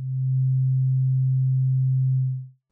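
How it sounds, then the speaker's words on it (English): A single pure, low electronic sine-wave tone from a Newfangled Audio Pendulate synthesizer holds steady for a couple of seconds, then fades out smoothly. "We hear just the main sine wave and see a circle."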